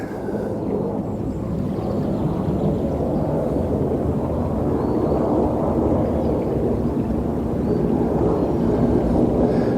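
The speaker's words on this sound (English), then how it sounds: "Noisy aeroplanes though, that's the only trouble" A loud, continuous low roar rumbles throughout, like an aircraft passing overhead, swelling slightly without breaking.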